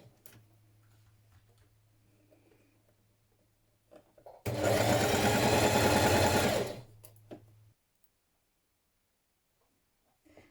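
A sewing machine runs one steady, fast burst of about two seconds, stitching a sleeve into a dress seam, with quiet room hum before and after and no talk.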